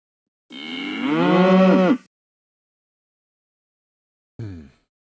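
Cow moo sound effect played over a baseball stadium's speakers during a Baltimore Orioles at Pittsburgh Pirates game: one long, loud, close moo, then a second brief moo after a pause.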